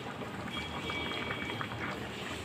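Sour mango fish curry (aam sol) bubbling steadily in a pot, a continuous close simmering burble with soft popping bubbles and no talk.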